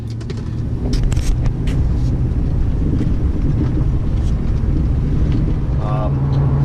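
A car drives on a short test run after its brakes were bled and its sway bar bushings and end links were replaced. A steady, loud low engine and road rumble runs throughout, with wind buffeting at the microphone.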